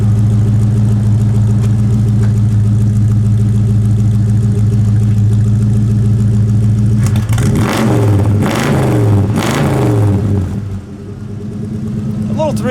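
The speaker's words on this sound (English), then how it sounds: "The little 302 exhaust has some bite, doesn't it?" A 1968 Ford Fairlane 500 with a 302 V8 idles steadily and loudly, then its exhaust barks through a few sharp revs before settling back, with voices talking over the engine.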